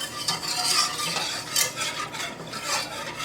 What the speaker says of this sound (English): we're gonna stir this until completely we don't see any lumps